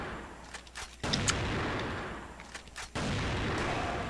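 Grenade explosions in the video game Crossfire, two sharp booming blasts about two seconds apart, each followed by a lingering rumble, with faint gunfire crackling in between.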